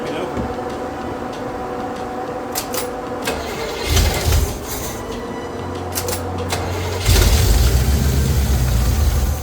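A small-block Chevy V8 fitted with 1.6 roller rockers cranks over with a rhythmic starter churn, then catches and runs roughly before settling into a loud, close idle.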